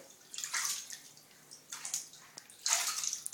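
A child splashes and plays in bath water, with bursts of sloshing and dripping water separated by quieter moments, close by and without talk.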